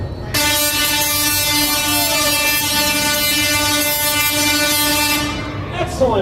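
A Tesla coil fires in a loud, continuous electric buzz with a strong steady hum that holds for about five seconds before cutting off abruptly, followed by a brief faint clatter.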